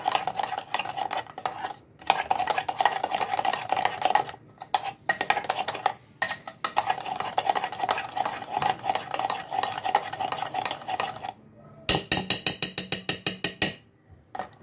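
A kitchen mixer grinder blends a raw mango ice cream mix tinted with green food colouring, whirring in repeated pulsed bursts broken by brief stops, ending in a quick rattling run of short spins.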